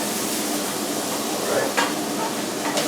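Butter sizzles and crackles steadily in a frying pan for a full English fry-up, a dense close hiss with a couple of brief clinks or scrapes near the end and no talking.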